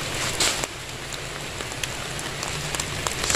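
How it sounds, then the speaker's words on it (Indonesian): Steady rain patters on a surface nearby in the late afternoon at a riverside fishing spot, a constant hiss with scattered louder drips and no talking. "Sudah sore, hujan lagi ini."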